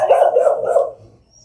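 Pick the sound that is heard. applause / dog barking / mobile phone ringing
dog barking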